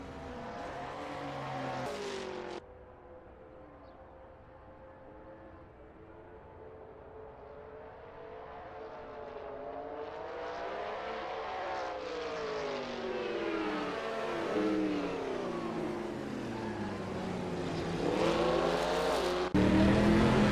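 A 1960s sports prototype engine in a Le Mans racing game drones and revs through gear changes, pitch climbing and falling steadily, with a brief louder engine burst at the start and end.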